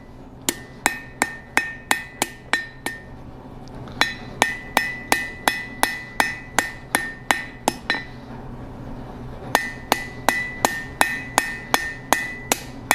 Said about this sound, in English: I'm going to carefully give it a few taps here just to smooth out a few rough spots.